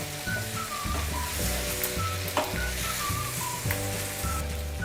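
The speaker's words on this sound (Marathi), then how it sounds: "3-4 मिनटं छान अशा परतून घ्यायच्या आहे तेलामध्ये" Jumbo prawns sautéing in oil with masala, a loud continuous crackling sizzle with spatter pops and a steady tonal hum running underneath, no one talking.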